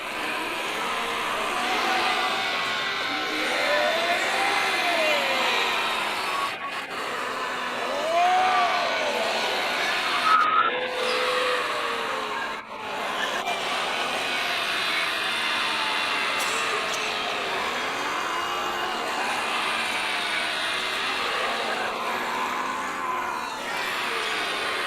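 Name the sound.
morning exercise group making crazy sounds in Cubbon Park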